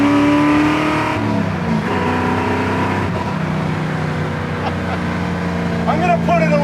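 A 1969 Chevy Camaro engine accelerating hard, a loud, close, rising roar with strong harmonic tones that climb and shift, while a voice talks over it.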